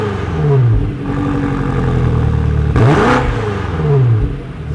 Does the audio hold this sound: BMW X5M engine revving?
yes